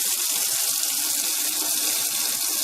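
Water running from a sink tap through siphon tubing while bottling home-brewed beer: a continuous close hiss and splash of flowing water, steady and even throughout.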